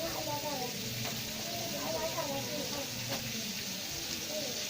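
Chicken pieces frying in ghee for chicken bhuna masala, a steady hiss and sizzle running continuously beneath someone speaking.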